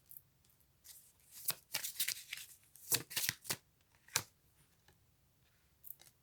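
Tarot cards being shuffled during a card reading, soft close riffling and flicking bursts in irregular clusters, fairly quiet, with short pauses between them.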